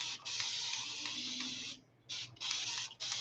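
A spray bottle hisses in several bursts, one long spray, a brief pause, then a few more quick sprays close by.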